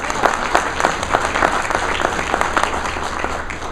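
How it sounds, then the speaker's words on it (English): Audience at an Enlisted Association of the Arkansas National Guard evening event applauding, a dense, steady wash of many hands clapping throughout, fairly loud and close. "So give yourself a round of applause."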